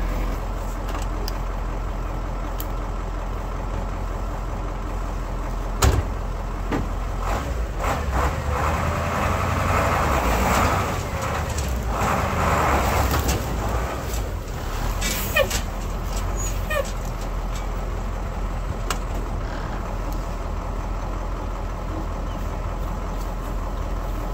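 A Ford F8000 truck engine runs while the truck drives, a steady loud rumble throughout, with a few knocks and clunks and rising road noise in the middle.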